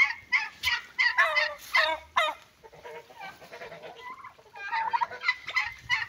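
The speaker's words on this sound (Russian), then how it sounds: "Вот мои индюки, ой, то есть индоутки." Muscovy ducks call in a series of close, hissy, raspy bursts, some overlapping, with a short pause in the middle before the calls resume.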